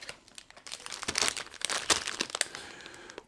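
A plastic snack bag from a Prinzen Rolle treat box crinkles and crackles close up as it is handled, a run of irregular rustling bursts that grow denser in the middle.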